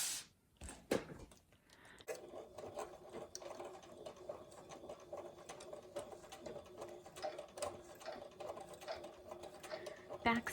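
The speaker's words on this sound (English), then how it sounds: "Back stitching on this edge, just make sure that that's a tension point and it won't rip." Sewing machine back stitching the edge of a PVC gelly cover for a Hobonichi Cousin Avec planner, a fast continuous mechanical whir with rhythmic ticking, close and fairly quiet, with occasional talk over it.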